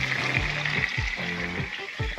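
Steady hissing and crackling of blood sausages sizzling in a hot pan, close by, with some low rumbling sounds underneath.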